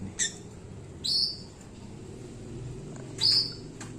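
Canaries in an aviary breeding cage give three short, bright chirps spaced about a second apart, clear over a faint, low background hum.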